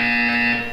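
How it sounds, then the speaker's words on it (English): A steady electronic buzzer tone from the video game Portal 2, sustained and loud with strong harmonic bands, sounding alone for under a second. "You will hear a buzzer."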